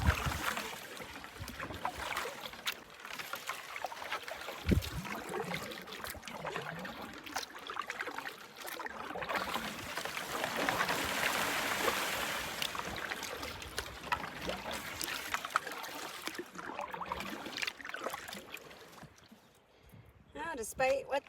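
A canoe paddles across a wilderness lake in Temagami, with soft water swishes and trickles and faint knocks against the hull, mixed with outdoor ambience at moderate volume.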